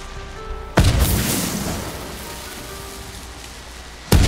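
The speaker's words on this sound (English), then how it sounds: "This is the bomb." Bombs explode in Ghost of Tsushima, two loud booming blasts, the first followed by a long hissing, crackling decay like falling debris and the second hitting abruptly at the end.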